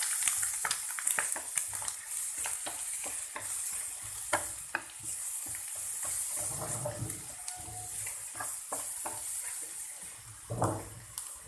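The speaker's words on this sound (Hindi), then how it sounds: "भूनेंगे इसे।" Steady sizzling in a hot pan with repeated scraping and clinking as a spatula stirs an egg mixture with garlic-ginger paste, close and fairly quiet.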